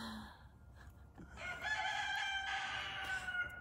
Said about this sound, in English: Bird is screaming.